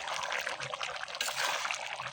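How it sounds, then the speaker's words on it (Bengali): Water being poured into a pot of beef trotters, head skin and ears braising in a home kitchen, a steady trickling, splashing stream that runs close and unbroken for a couple of seconds with no talk. "যে আমি কষানো পানি দিছি"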